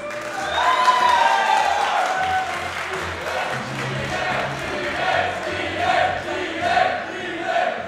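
A loud crowd at a Super Smash Bros. Melee tournament roars and cheers with scattered applause, steady throughout, with a voice rising over the noise.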